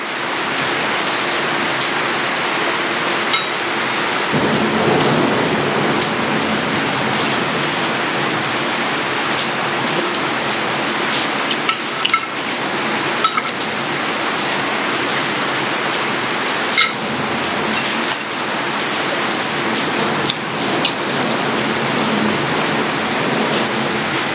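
Heavy rain pours down in a dense, continuous roar that swells louder a few seconds in and stays strong and close throughout.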